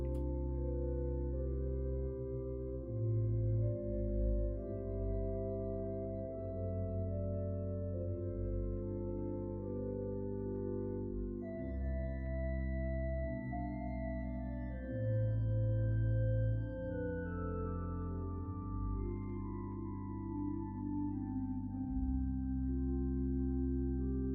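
Rieger organ plays its flute stops with a mutation added on top, soft sustained chords moving slowly and smoothly, quiet and steady with no voices.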